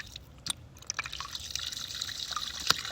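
A ram pump draws water from a sandy homestead river, giving a faint steady trickle and splash with a few sharp drips and clicks close by.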